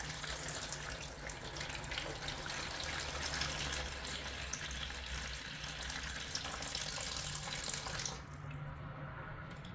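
Steady cold running water pours and splashes continuously, close by, into gluten-free pizza dough, ending with a slight change near the end.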